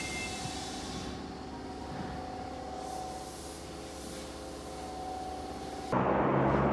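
Interior of a packed train in Japan, a steady rumble and hum of the moving carriage with a brief rise in noise near the end.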